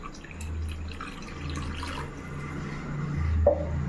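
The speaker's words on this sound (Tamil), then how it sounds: "தண்ணி ஊற்றுறேன்" Water pouring and trickling into a pot of Chettinad chicken gravy with a low, steady splash, ending with a brief drip and gurgle.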